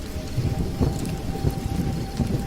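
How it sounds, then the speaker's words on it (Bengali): Heavy rain pours down steadily in a thunderstorm, with low rumbling thunder rolling underneath and scattered louder impacts, a dense continuous wash with no voices. "তখনই আকাশের মেঘ হঠাৎ ফেটে ঝড় বৃষ্টি শুরু হলো"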